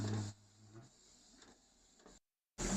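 Inkjet printer printing a test cover, a soft mechanical whir with faint ticking carriage movements, briefly cutting out before a louder burst of motor noise resumes.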